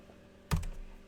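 A single sharp keystroke clack on a new computer keyboard, close and fairly loud, with no talk around it.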